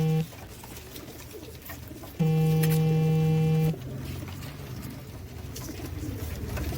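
Royal Teddy pigeons coo, one long, loud, steady coo standing out close by over a quiet background with softer murmurs before and after.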